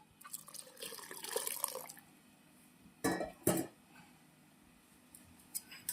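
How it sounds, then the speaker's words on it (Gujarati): Water splashes and trickles briefly into a cooking pot of sago pearls, followed by a couple of sharp clinks and scattered drips against a quiet background. "હવે પાણી નાખીશું આપણે થોડું આપણે પાણી રેડીશું અંદર"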